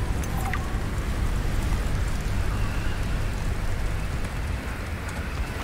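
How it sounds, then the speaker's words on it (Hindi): Heavy rain in the video game Subnautica Below Zero, a dense, continuous downpour pattering on surfaces with a low rumbling bed, loud and steady throughout without speech. "बहुत तेज बारिश हो रही है"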